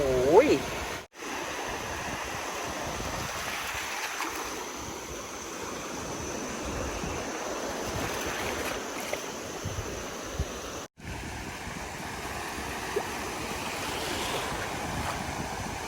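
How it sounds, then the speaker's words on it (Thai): Strong waves surging on a coastline at high tide with heavy wind gusting across the microphone, a continuous rushing wash with brief dropouts. "มันช่วงน้ำขึ้นและคลื่นลมแรงด้วย"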